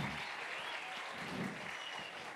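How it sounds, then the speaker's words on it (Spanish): Audience applause at a conference talk, a brief, even wash of clapping heard from a distance and fairly faint, with no voices over it. "¡Un aplauso para el hombre!"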